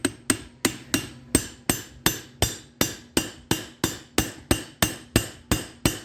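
Evenly spaced hammer taps ring out in a steady rhythm, about three blows per second, each a sharp metallic strike with a short ringing decay, driving a seal into the steering box of a 2003 Dodge RAM 3500 Dually.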